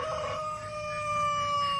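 A Meusienne rooster crows once, a sustained, fairly close call that holds a steady pitch, with quiet farmyard background and no talk.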